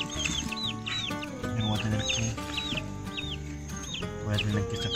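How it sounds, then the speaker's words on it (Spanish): Three chicks peeping in a poultry breeding pen during cold weather, repeated bright chirps in quick rhythmic bursts close by, over a fairly busy background of other farm noises. "Aquí están los 3 pollitos, los otros tienen su mamá."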